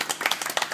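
A few people clap on request during a playful acting session, a short run of sharp, uneven hand claps close by, fairly quiet and without talk.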